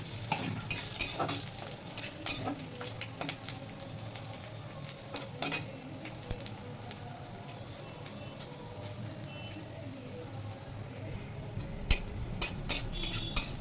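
Garlic pieces and dried red chillies fry in a pan with a faint, soft sizzle, broken by sharp clicks and scrapes of stirring.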